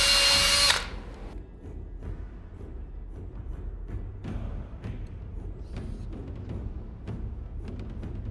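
A power drill bores a hole through brass sheet for a cosplay armor bikini top, opening with a short, loud high whine before quieter bursts of drilling and handling knocks follow.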